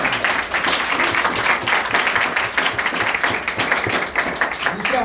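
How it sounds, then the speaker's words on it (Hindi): A roomful of trainees breaks into loud, continuous applause during a training session, dense clapping filling the whole stretch without letup. "कोई कॉमन जी के लिए जोरदार ताली"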